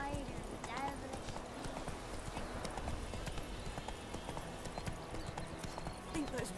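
Hooves of a horse in The Witcher 3 clip-clop in a quick steady rhythm throughout, moderately close, with a short whinny near the end, heard alongside game ambience and a voice talking.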